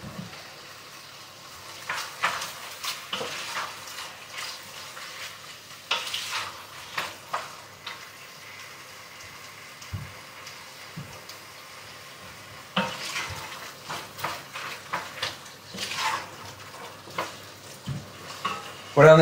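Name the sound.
lamb sauté simmering and sizzling in a pan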